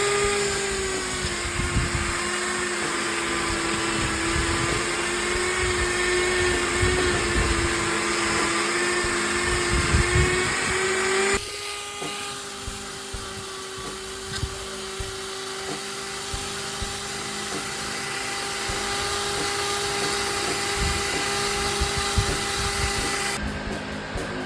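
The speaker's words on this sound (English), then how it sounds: "Now we're going to hit the combustion chamber with a little bit of rouge" A Kawasaki KXT500 combustion chamber being buffed with rouge using a power tool: a steady, loud whine runs continuously, dropping to a slightly lower pitch partway through and carrying on without pause.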